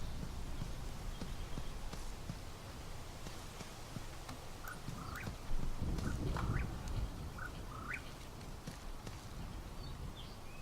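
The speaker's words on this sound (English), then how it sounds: "Where is that chirping coming from?" Short high chirps come in brief bursts over a steady low rumble of ambient noise in the video game Life is Strange, with a few clearer birdlike calls standing out midway.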